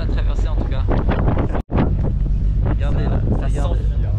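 Strong wind roars and buffets the microphone on a boat crossing to Belle-Île, a loud continuous rush with one brief dropout, with muffled voices mixed in.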